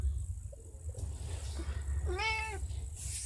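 A house cat gives one clear, rising-and-falling meow partway through, fairly close, against a low steady room hum.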